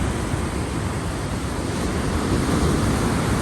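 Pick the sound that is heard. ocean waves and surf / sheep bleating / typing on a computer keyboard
ocean waves and surf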